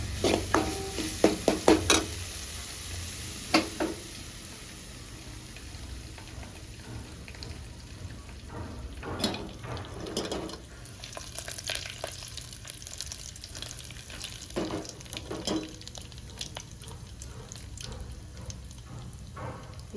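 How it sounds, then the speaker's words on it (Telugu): Onion chutney frying in a pan, a low steady sizzle with sharp clattering spatula strokes early on, then scattered scrapes and taps over continuous crackling. "ఉల్లిగడ్డ పచ్చడి బాగా ఫ్రై అయింది"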